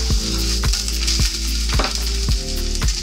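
An egg fries in a pan with a steady, loud sizzle, broken by several sharp scrapes and knocks of a spatula against the pan.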